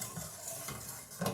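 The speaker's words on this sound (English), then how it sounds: "I need to turn that up a little bit so it gets sizzling" Onion sizzles faintly in a hot pan, with stirring scrapes over a soft, steady frying hiss for Asian-style chicken spaghetti.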